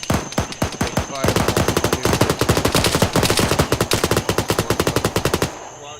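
Sustained automatic gunfire following a fire command in a military-style team session, loud rapid bursts from several weapons overlapping for about five seconds before cutting off abruptly.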